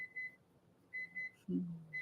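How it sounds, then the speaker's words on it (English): A microwave timer gives a few short, faint electronic beeps spaced apart in a quiet room, followed by a brief low thump. "What's up with the microwave? The microwave it's the timer."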